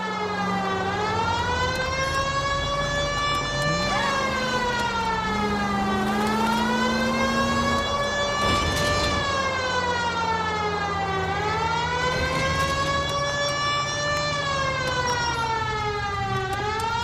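Police car siren from the video game L.A. Noire, a loud continuous wail rising and falling in slow sweeps over a low engine drone, with a brief burst of noise midway through.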